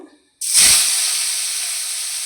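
Fish drops into hot oil in a kadai, a home kitchen wok. A short moment of near-quiet breaks into a sudden loud hiss and sizzle that stays strong and steady to the end.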